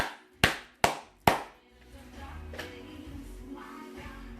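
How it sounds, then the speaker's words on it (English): A preacher claps his own hands three times, sharp loud isolated smacks in a slow uneven rhythm, followed by quieter room murmur and faint voices. "I'm clapping for myself."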